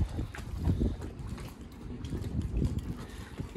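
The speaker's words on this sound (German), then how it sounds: "da hat es ungefähr 20 bis 30 Knoten Wind, wird das Ganze nicht vereinfachen" Strong 20 to 30 knot wind at the stern of a 29-foot sailboat, a dense continuous roar and rumble of gusts buffeting the microphone, with a water-like wash underneath and no speech.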